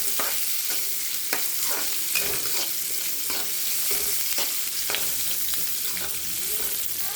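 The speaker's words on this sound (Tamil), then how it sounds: "வெங்காயம் போட்டுக்கலாம் நல்லா வதக்கலாம் ரெண்டு உப்பு போட்டுக்கலாம் நல்லா வதக்கலாம்" Onions sautéed with salt in a hot pan make a steady, loud sizzle, with repeated scraping stirs of a spatula cutting through it, close up and without talk.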